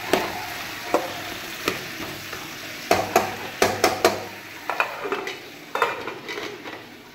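Ingredients fry in a pan while a utensil stirs and scrapes it, giving repeated metallic clinks and knocks over a constant sizzle, close and fairly loud, with no talking.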